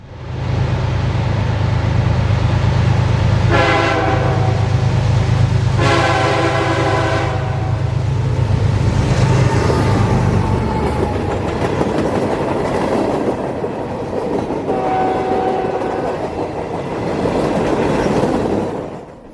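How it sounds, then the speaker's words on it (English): A southbound tie train led by a single GE GEVO diesel locomotive hauls a string of gondolas past at close range, sounding two long horn blasts over the engine's rumble, then wheels clatter steadily as the cars roll by. "southbound tie train W201, with a solo DC GEVO leading Longco forward with a string of gondolas behind him."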